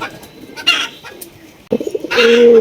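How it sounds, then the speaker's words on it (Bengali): A pair of big Rajgolla pigeons on a Gopalganj farm call loudly in a few sharp, close bursts. The last call swells into a sustained, booming coo. "রাজগোল্লা কবুতর দেখেন মার্শাল্লাহ পুরা রাজার মতো হুঙ্কার দেখছেন কিরকমের ডাকাডাকি করতেছে"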